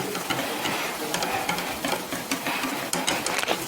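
Butter being stirred into a mixture for a Maslenitsa dish in Yakutia, a close, steady scraping and sloshing of a spoon in a bowl with soft irregular clicks and no speech.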